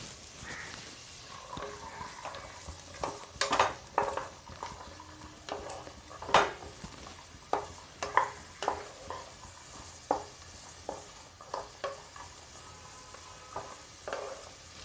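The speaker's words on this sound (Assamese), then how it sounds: "কাজু এতিয়া এইখিনি অলপ ফ্রাই করিম" Cashews fry in a pan with a soft steady sizzle, broken by repeated spatula scrapes and taps against the pan. The sound is close and has no talk over it.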